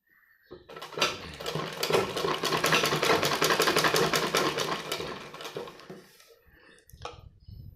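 A sewing machine stitches a baby vest in one continuous run of rapid, even needle clatter lasting several seconds, starting and stopping abruptly, with a faint handling knock after.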